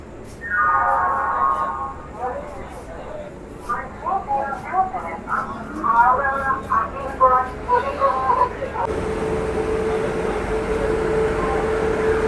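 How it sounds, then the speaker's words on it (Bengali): An Indian Railways locomotive, engine 3741, rumbles steadily nearby while someone talks over it; the talk fades and the engine's low drone continues alone. "এটাই হচ্ছে সেই engine three seven four one Indian railway"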